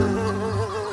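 Wasps and bees buzz as a storytelling sound effect, a close, steady insect drone with a wavering pitch lasting about a second, heard alone.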